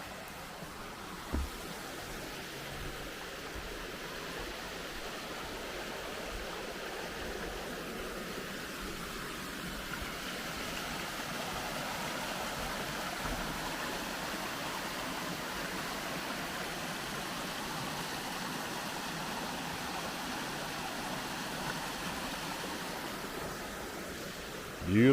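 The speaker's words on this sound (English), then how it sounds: "as we're crossing the bridge over Greasy Creek" Greasy Creek flows under a hiking-trail bridge at Black Rock Mountain State Park, giving a continuous, even rushing hiss of water. A couple of faint thumps sit in the background.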